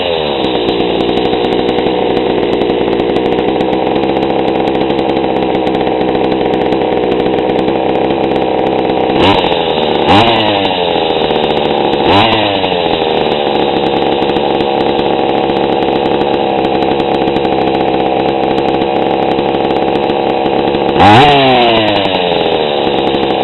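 A small two-stroke engine, likely a chainsaw, idles steadily and loudly after its carburetor mixture is leaned a quarter turn, still running rich and low, with a few brief revving blips near the middle and end.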